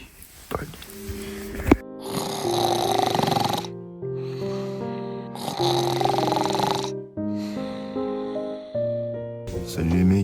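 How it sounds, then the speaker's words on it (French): A man snores inside a tent at night in the mountains near the Ayous lakes, with long rasping breaths repeating in slow cycles, loud and close, while music plays over it. "Il dit qu'il ronflait pas, mec, il a fait que ronfler."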